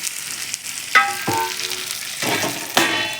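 Stuffed okra (bharli bhendi) sizzles steadily in hot oil while a spoon scrapes and turns it in the pan, giving a few distinct scraping strokes over the constant loud frying hiss, with no talk.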